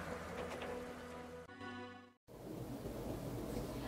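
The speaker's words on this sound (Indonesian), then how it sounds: "Lalu turunlah hujan yang lebat." Heavy rain falling during a storm, a dense steady hiss that cuts out briefly into near silence and then resumes just as full and loud.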